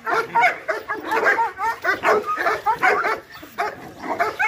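A frightened dog barks and yips in quick repeated bursts at close range, with faint whimpering mixed in during a training session beside another dog.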